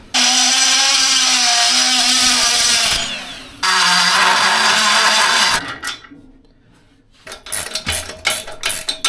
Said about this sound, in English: so I'm going to run the die grinder in there, just widen that out rather than putting a smaller bolt in it